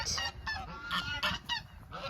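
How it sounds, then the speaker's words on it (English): Ducks quacking in a quick, irregular series of loud, nasal calls nearby, several overlapping, with no talk. "Those are ducks."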